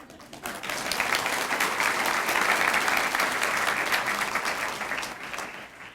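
An audience at a school district showcase event breaks into applause that swells within the first second and holds as a dense, steady roar of clapping, then tapers slightly toward the end.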